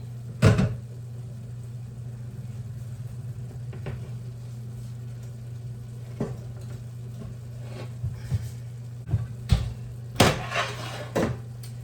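Kitchen oven door shut after a skillet of cornbread goes in: a sharp thud early on, then scattered knocks and light clatters, with a firmer bang near the end, all over a steady appliance hum and no speech.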